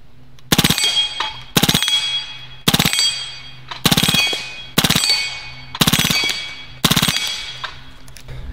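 Hatsan Blitz full-auto .30 caliber air rifle firing seven short, sharp bursts about one second apart, each a loud metallic rattle of rapid shots with a ringing tail, quiet between bursts.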